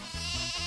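A sheep or goat at a petting zoo set up on land beside a lake, bleating in one sustained, close and fairly loud call that swells after a brief quiet start, with no talking.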